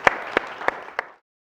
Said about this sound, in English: Give Owain a big round of applause